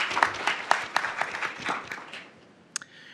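A small audience at a Nurses Week award ceremony claps for a nurse leader, a thin scattered round of individual claps that fades out, ending with a couple of last sharp claps.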